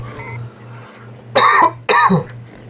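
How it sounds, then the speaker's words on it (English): A person coughs twice in quick succession, harsh, loud rasping bursts after inhaling from a vaporizer, over a low steady background hum. "Coughing because this vaporizer is too fucking harsh."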